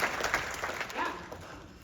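Audience applause fills an IMAX theater at a classic-film screening, a steady moderate wash of many hands clapping at once without letting up.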